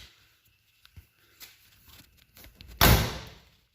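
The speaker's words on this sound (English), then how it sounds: "Man, that door sounds good." A 1963 Dodge Dart's car door swings shut with a single solid, loud thud near the end, preceded by faint handling noises and light rustling.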